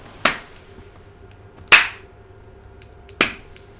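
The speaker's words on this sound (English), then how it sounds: "What are you sarcastically clapping at?" Three sharp, isolated claps ring out in Grand Theft Auto: Vice City, spaced well apart like slow sarcastic applause, crisp and close against a quiet background.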